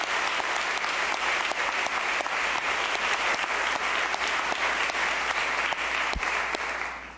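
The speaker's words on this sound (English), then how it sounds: "The applause is wonderful" Sustained, even applause from a large audience at a seminary opening convocation honoring newly introduced faculty, steady throughout before fading slightly at the end.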